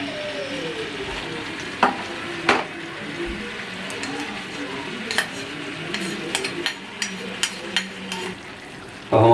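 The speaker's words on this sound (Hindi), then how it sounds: "इसमें मैं मक्खन ऐड करूँगा क्योंकि मक्खन मुझे पसंद है कढ़ाई के अंदर।" Butter and green chillies sizzle in mutton tawa karahi, a steady low frying hiss broken by sharp metallic scrapes and taps of a spatula against the pan.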